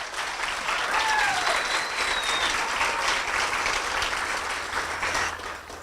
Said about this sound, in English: Let's give a Millennium a round of applause